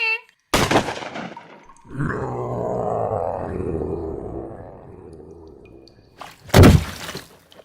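Gunshot effects in a monster audio drama: a sharp, loud blast, then a long guttural groaning roar. A second heavy burst closes the sequence.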